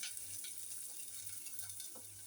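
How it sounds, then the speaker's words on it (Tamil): Onions and pandan leaves fry in a pan with a steady, close hiss of sizzling oil and faint stirring scrapes, continuous and even, no voices. "ரம்பையிலையும் போட்டு வெங்காயத்தையும் போட்டு ஃப்ரை பண்ணுவோம்."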